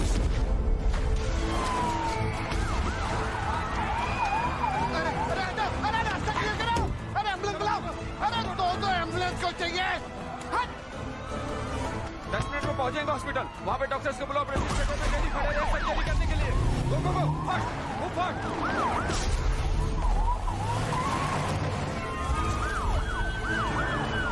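An ambulance siren from an emergency scene in the Hindi film Jawan wails continuously and loudly throughout, under shouting voices and dramatic music.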